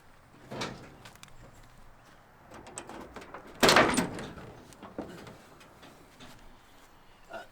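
A car door opens with a brief loud clunk and rattle midway, surrounded by quiet shuffling and light handling noises.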